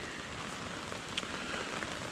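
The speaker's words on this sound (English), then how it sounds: "We started rain showering." Rain patters steadily on a tarp over a bushcraft lean-to shelter at a late-autumn camp. The dense, even hiss of drops is close, with an occasional louder tap and no voices.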